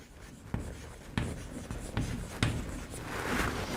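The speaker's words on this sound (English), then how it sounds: "let me write it here" Chalk or marker writing on a board during a semiconductor physics lecture, with scattered sharp taps and scratchy strokes at close range and no speech.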